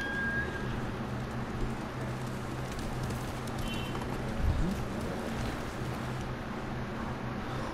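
A horse gallops in Ghost of Tsushima, with a steady, rhythmic clip-clop of hooves running continuously at moderate volume over a wash of rain-like ambient noise.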